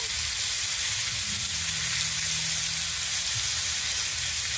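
Vegetables sizzle steadily in hot oil with a sprinkling of turmeric powder, a loud, continuous close-up frying hiss that runs unbroken throughout, with no talking.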